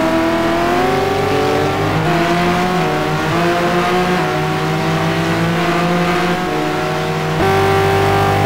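Porsche GT1 race car engine roars loud and steady in a sim race at Sebring, the pitch holding high then shifting down as it brakes and climbs again, with no voices over it.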